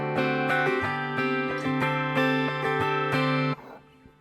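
A guitar is strummed in a quick, even rhythm, repeated chord strokes ringing bright and close before ending with a brief fading ring.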